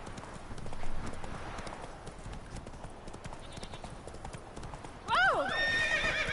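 Horse hoofbeats clip-clop steadily through a game scene of The Witcher 3, then a loud whinny breaks in near the end, rising and falling in pitch over the galloping.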